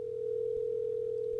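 A single steady telephone tone on an outgoing call, loud and unbroken for its full length, with a faint hum beneath and no voices.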